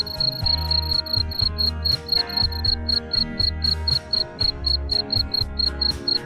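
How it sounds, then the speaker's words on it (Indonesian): Crickets on a cricket farm chirp in a fast, regular, high-pitched pulse, loud and close, over an uneven low throbbing rumble. "Jangkrik juga cenderung menyukai tempat yang gelap."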